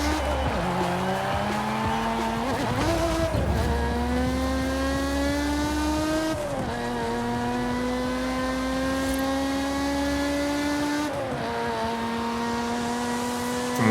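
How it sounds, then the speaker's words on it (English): Lotus car fitted with a supercharged Toyota V6 in Forza Horizon 5, engine droning and revving steadily through gear changes with pitch rising and dropping, tires squealing, loud and continuous with no voices. "this is actually the upper tier engine, a supercharged Toyota V6"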